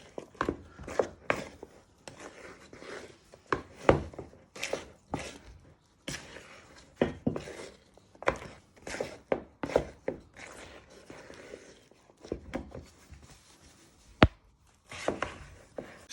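A wooden spoon works cake batter and cream eggs in a mixing bowl for an Easter cake, giving repeated irregular knocks and scrapes against the bowl, close and fairly loud, with short pauses and no talking.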